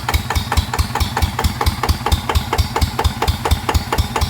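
A TF 120 diesel engine upgraded to 150 idles at low revs, a steady loud thudding rhythm of even pulses with a metallic clatter on each beat, running alone throughout.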